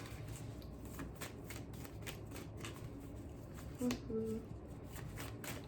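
Tarot cards are shuffled in rapid, soft riffling flicks, close and fairly quiet, with a brief faint voice near the end.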